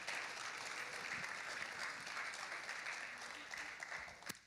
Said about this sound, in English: One more round of applause for our mayor